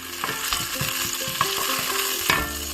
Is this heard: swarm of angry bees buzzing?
no